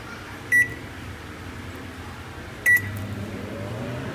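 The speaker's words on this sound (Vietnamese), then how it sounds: "Mình sẽ bật chế độ nướng" An oven switched to bake mode gives two short, sharp beeps a couple of seconds apart over a steady low running hum.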